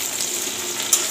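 Onions fry in hot oil in a home kitchen, giving a brief, steady close sizzle with a slight crackle near the end.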